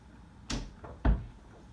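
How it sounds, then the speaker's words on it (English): A door swings shut with a soft knock followed by a firmer thud, quiet and close in an otherwise still room. "I'm going to shut the door again."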